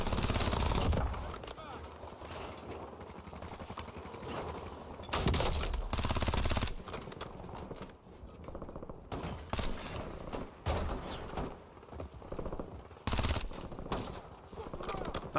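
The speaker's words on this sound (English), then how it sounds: "Not sure who's shooting at me." Gunfire in the Warzone battle royale shooter: bursts of automatic and single shots crack out in clusters across the stretch, with loud volleys near the start, middle and end over a constant game ambience.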